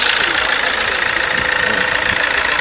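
A Fiat Bravo car engine runs steadily and loudly, a dense continuous drone with a faint knocking texture throughout and no pauses.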